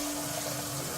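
Water pours steadily into a cooking pot for instant ramyeon with rice cakes and dumplings, a continuous close, even rushing stream with no talk.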